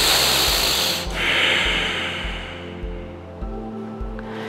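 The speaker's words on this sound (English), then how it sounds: "One more deep breath." Slow, deep breathing during a yoga stretch in a women's yoga class, with steady airy inhales and exhales over a low rhythmic pulse, close and fairly loud, no talking.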